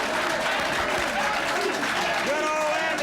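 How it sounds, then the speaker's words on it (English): Studio audience applause for Prince Andrew on a 1984 television show, a steady wash of clapping heard behind music and tones, fairly faint and continuous. "Give Prince Andrew a nice round of applause there."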